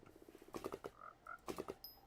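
Frogs in the Hypixel Skyblock video game give short rapid croaking bursts, pulsing in quick clusters at a low level, with a couple of softer tones between them.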